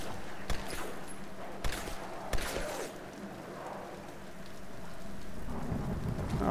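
Steady rain and rolling thunder in the video game Tomb Raider (2013), a continuous wash of downpour with a few sharp thunder cracks early on, no talking.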